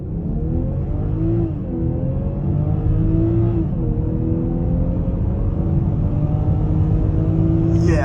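A 2022 BMW X5 40i pulls hard from a standstill, its engine note loud and steadily climbing in pitch, with a couple of upshifts that briefly drop the tone before it rises again.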